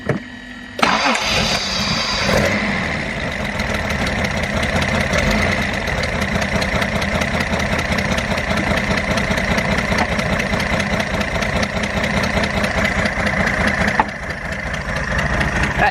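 A Datsun 240Z engine cranks and catches about a second in, then settles into a loud, steady, close-up idle that runs to the end with a slight change near the end.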